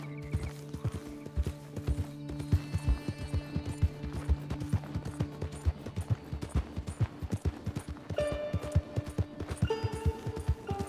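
Horse hooves clip-clopping in Red Dead Redemption 2, a steady rhythmic run of sharp hoofbeats close by, with a horse neighing and other game sounds layered in.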